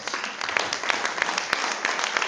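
A church congregation applauding, many hands clapping in a dense, continuous patter with a few sharper claps standing out, loud and close, filling the room without talk.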